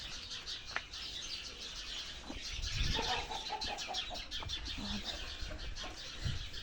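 Chickens on a village farm in southern Ukraine: faint clucking and chirping calls scattered among quiet outdoor background noise, with a few soft thuds and rustles.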